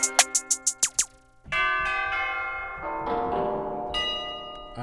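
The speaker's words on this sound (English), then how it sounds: "sometimes I gotta make sure that the tubular bell is like changing pitch" A tubular bell sample in a beat opens with six quick struck chimes in a row. Sustained ringing bell tones follow, changing pitch a few times, loud and close.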